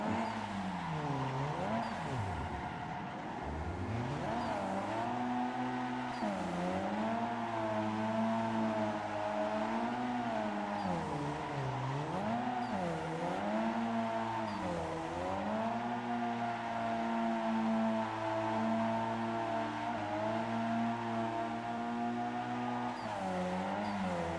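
A racing video game car engine revs continuously and loudly, its pitch sweeping up and down through gear changes and rising and falling throttle. There is no talk over it.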